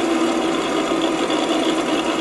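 A tractor engine in Professional Farmer 2014 labors under load during a turn, giving a steady, loud, buzzing mechanical drone with no clear change in pitch and no talking.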